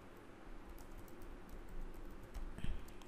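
Fingers typing on a computer keyboard at a desk, soft irregular clicks and taps arriving in quick bursts, faint and close against a low background hum.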